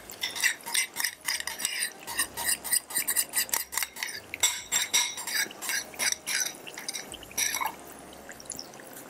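A cooking pot being stirred after paste is added, with repeated scraping and clinking of a utensil against the metal, wet sloppy dripping textures, steady and close throughout with no talk.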